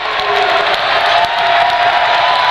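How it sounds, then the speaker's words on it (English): A home crowd in a college men's basketball gymnasium roars steadily and loudly through a defensive possession, a dense wash of cheering and whoops with faint sneaker squeaks underneath. "the home gymnasium starting to get loud here on the defensive possession"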